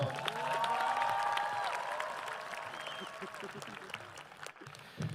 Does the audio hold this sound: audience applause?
yes